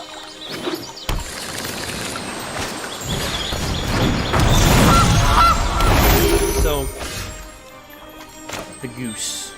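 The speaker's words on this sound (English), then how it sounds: "The goose." Goose honking from the video game MTG Arena, loud honks that swell in the middle and fade, with scattered clicks and bursts around them.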